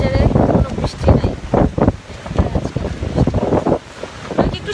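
Strong gusting wind buffeting the microphone on the beach at Cox's Bazar, with a roaring wash of sea waves underneath, loud and close throughout.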